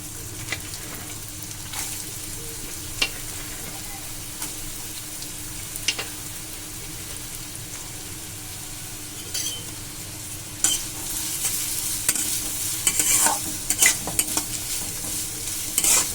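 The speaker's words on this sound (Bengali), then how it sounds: "সাদা তেল গাজর কুচিগুলোকে ভেজে নেবো" Chopped carrots frying in white oil in a pan, a soft continuous sizzle with occasional light stirring taps, growing busier and brighter toward the end, close and without talk.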